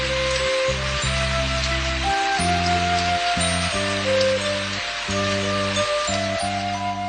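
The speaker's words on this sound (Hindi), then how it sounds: "अरे बारिश शुरू हो गई।" Steady rain falls throughout a Ninja Hattori cartoon scene, a broad hiss of drops spread across the whole clip, with a musical score playing over it.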